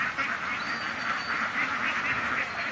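Ducks quacking in a rapid, repeated stream of nasal calls, fairly close and steady, with no voices.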